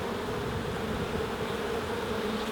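Honeybees buzz steadily in an open hive while frames are handled during swarm-prevention checks, a close, continuous droning hum with no talk.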